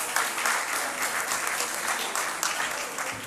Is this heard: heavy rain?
no